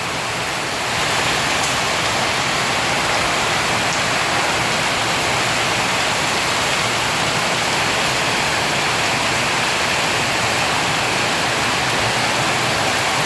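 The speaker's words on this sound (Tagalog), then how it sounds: "Biglang bumuhos yung napakalakas na ulan mga kalingap." Heavy rain pours down steadily at night in Daet, Philippines, a dense, continuous hiss filling the whole stretch without pause.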